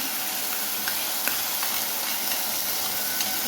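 Tomato puree sizzling in hot oil in a pan, a steady loud frying hiss with small scattered pops and spits of splatter throughout, no voices.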